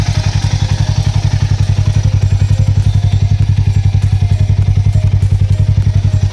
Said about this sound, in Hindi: सो कुछ इस प्रकार आपका आइडल साउंड होने वाला है गाइस।